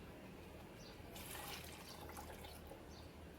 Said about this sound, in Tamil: நம்ம குக்கரில் அவிய வச்ச தண்ணியை அந்த மிக்ஸி ஜாரில் ஊற்றி நம்ம அதை நல்லா அலசி நம்ம அதில் ஊற்ற போகிறோம்